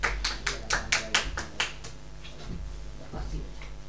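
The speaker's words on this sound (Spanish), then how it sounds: "Un aplauso para Agustín" A small group applauds a second-grade student at a school welcome event in Puerto Varas. Several sharp, close claps in an uneven rhythm fade after about two seconds into a quiet, reverberant room.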